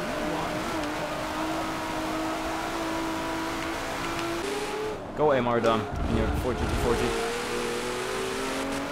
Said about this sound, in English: Oh, the sound of this car.